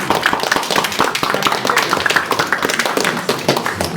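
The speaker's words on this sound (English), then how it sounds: "Little round of applause for our first speaker." Audience applause for a speaker at a music industry conference, a dense, steady wash of many hands clapping throughout, fairly loud and close with no pauses.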